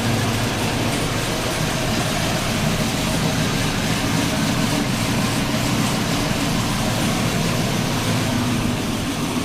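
A Saab 9-7X engine fitted with a big cam idles with a steady, dense rumble, heard close and continuous for several seconds in a garage.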